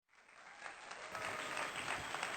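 Audience at a stand-up comedy show breaks into applause, rising quickly from silence into a dense, steady patter of many hands clapping.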